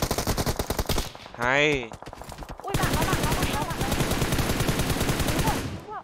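Rapid automatic gunfire in the mobile battle-royale game PUBG Mobile, dense bursts of shots running almost continuously and loud, with a short break in the middle and a brief spoken word over it.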